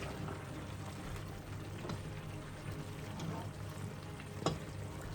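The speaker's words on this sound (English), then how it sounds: "So what I'm going to do is I'm going to stir it up." Egusi stew with pieces of fish is stirred in a pot, a low bubbling sizzle with soft scraping strokes and one sharper clink near the end, no voices.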